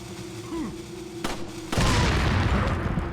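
Dynamite shot out of the air in Resident Evil 4 bursts with a sudden loud boom, followed by a sustained rumbling roar of the blast after a brief quieter stretch of ambient tones.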